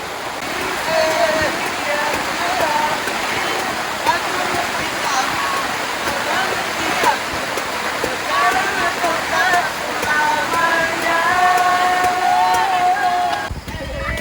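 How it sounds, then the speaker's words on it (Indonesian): Heavy rain pours down at night on the summit of Mount Melihat, a dense, continuous hiss, with faint voices murmuring underneath. "Malam ini kita di puncak Melihat diguyur hujan."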